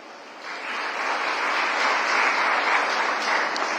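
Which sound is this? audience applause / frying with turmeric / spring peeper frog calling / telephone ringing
audience applause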